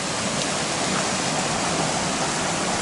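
Steady, full rush of creek water flowing close by along a hiking trail, a dense unbroken wash with no voices.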